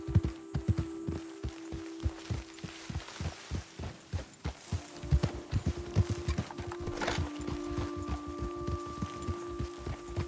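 A horse being ridden in Red Dead Redemption 2 plods along with steady, evenly spaced hoof clip-clops, close and clear, with a brief whinny and a low background drone.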